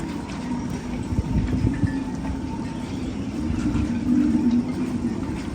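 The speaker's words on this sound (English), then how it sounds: "This is the sound of a windy marina." Wind gusting across a marina, heard from aboard a moored boat: a steady, close, broadband rumble that swells in gusts, with faint creaks and knocks underneath and no voices.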